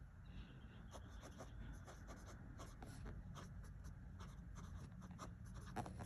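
A fountain pen with a medium nib, inked with a standard ink, scratches steadily across paper in short strokes, close and quiet, with no talking.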